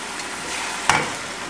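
Beaten eggs hitting a hot pan during a home stir-fry and fried rice session, a soft steady sizzle with one sharper hiss burst partway through, close and moderately quiet.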